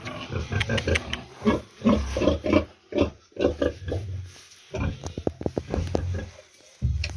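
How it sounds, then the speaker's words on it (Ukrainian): A first-litter sow grunting in a shed on a small home pig farm, a close run of rhythmic low grunts and snorts, loud and repeated, with short pauses between bursts. "Це свинка первістка."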